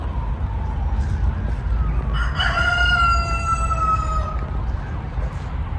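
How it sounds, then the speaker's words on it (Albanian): A rooster crows once in a long, drawn-out call that rises and then tails off, heard at moderate distance over steady low background rumble. "Gjeli?"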